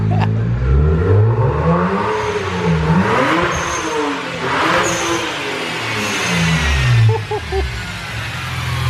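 A BMW M3 engine, just back from a transmission repair, revs repeatedly up and down close by, its pitch rising and falling in loud swells, with voices talking over it.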